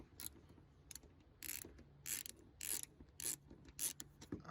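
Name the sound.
10mm socket ratchet loosening engine bolts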